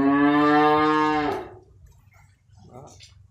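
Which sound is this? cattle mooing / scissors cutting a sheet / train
cattle mooing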